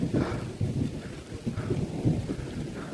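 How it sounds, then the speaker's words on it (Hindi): Rain pouring down on Doddabetta Peak near Ooty, a dense, steady hiss of drops striking surfaces with gusty swells and low rumbling underneath, fairly close and continuous, with no talking. "अब देखो बारिश हो रही है"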